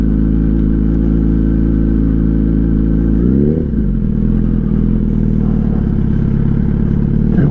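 Motorbike engine droning loud and close as it rides onto an off-road trail, a steady mid-pitched rumble that dips and shifts in pitch partway through before settling back into a constant throaty hum.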